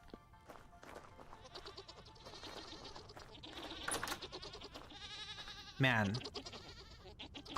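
Goats bleat repeatedly in the modded survival game Vintage Story, several quavering calls scattered among soft rustling, with one loud close bleat near the end, under a brief word from a man.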